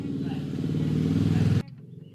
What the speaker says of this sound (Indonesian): suara sepeda motor